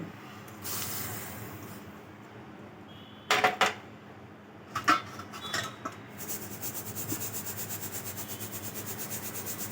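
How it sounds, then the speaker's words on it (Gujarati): Roasted black sesame seeds are sifted through a sieve into a large pot: soft rubbing and rasping, a few sharp scraping bursts, then a steady rhythmic shaking swish, quiet and close. "તો આપણે એને એક મોટા વાસણમાં ચાયણામાં લઈ લઈશું અને સેજ આપણે એને ચાળી લઈશું."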